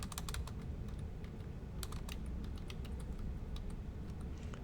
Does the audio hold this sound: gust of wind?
no